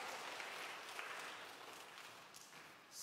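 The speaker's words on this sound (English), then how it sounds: "Give her applause here, please." Applause at a student Mass, a dense sustained clapping from a gathered congregation, moderately loud and steady for the whole stretch, tapering slightly at the end.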